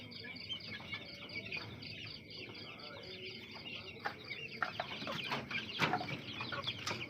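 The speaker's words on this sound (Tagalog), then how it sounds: "Ito yung ating broodcock." Rooster broodcock and hens perched in a backyard breeding pen, with soft clucking and scattered calls under steady chirping and farmyard background noise.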